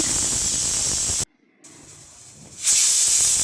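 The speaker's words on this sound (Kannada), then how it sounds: "ನೋಡಿ ಮತ್ತೊಂದು ವಿಸಲ್ ಕೂಗುತ್ತಿದೆ" A pressure cooker whistle shrieks while mutton sambar cooks, a loud, steady steam hiss that cuts out abruptly, leaves a short near-silent gap, then bursts back at full force, close by with no talking.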